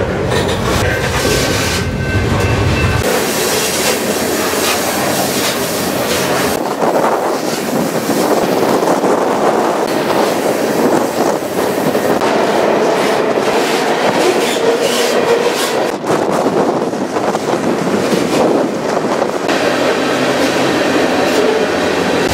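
A freight train on the Houston to Tulsa route rolls on as heard from aboard, a loud continuous rumble and clatter mixed with strong wind buffeting.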